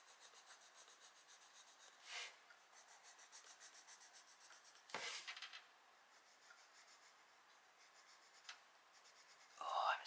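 Coloured pencil strokes rub across paper in a mini flower design colouring book, a quiet scratchy shading sound broken by a few louder bursts of handling noise.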